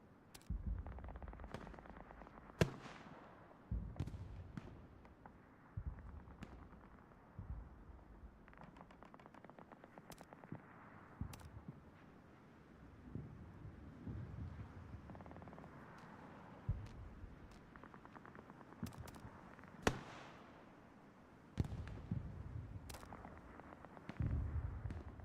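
Machine gun and rifle fire crackle through a Hell Let Loose battle around hilltop trenches, with repeated sharp bursts and distant booms rumbling in a steady, moderately loud wartime din.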